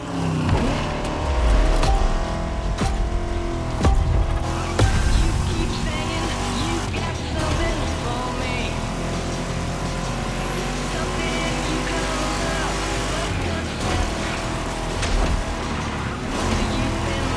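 Vintage cars driving in the racing game The Crew Motorfest, with a steady engine drone, revving surges and brief tire squeals running throughout, loud and close, with a voice talking over parts of it.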